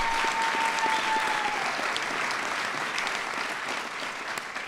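An audience at a White House event honoring the NCAA champion Duke Blue Devils gives sustained, even applause, a dense wash of many hands clapping in a large room for the whole stretch.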